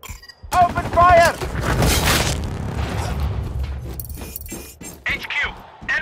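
Gunfire in the video game Sniper Ghost Warrior Contracts: loud close shots and crashing impacts in quick bursts, mixed with game voices and ambient noise.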